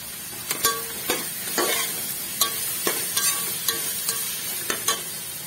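Vegetable fried rice is stirred and mixed in a hot pan with spices, and a sizzle sits under a regular series of spoon knocks and scrapes against the pan, about two per second.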